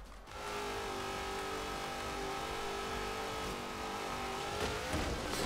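Steady, loud car engine drone holds a sustained rev through a curve in the Forza Horizon 3 racing game, with a Hot Wheels Twin Mill car, plus a brief scrape near the end.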